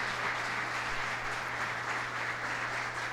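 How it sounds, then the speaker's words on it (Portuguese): A church congregation applauds its pastors during a celebration service, a full, sustained roar of clapping filling the room evenly from start to end, with a low steady hum beneath. "E eu queria que você desse uma salva de palmas."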